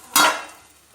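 Coconut oil hits a hot pan during breakfast cooking, giving one sudden sizzling burst that quickly fades to a faint hiss, close by.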